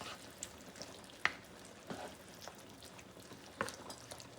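Seasoned ground meat with tomato paste sautéing in a pan, a faint steady sizzle broken by occasional scraping stirs and a few sharp utensil clicks, no talking.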